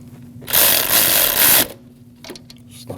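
A ratchet snugs a 10mm bolt on the throttle body bracket of a 2014–2023 Jeep Cherokee. A rapid, loud clicking run lasts about a second, followed by a few faint, scattered clicks.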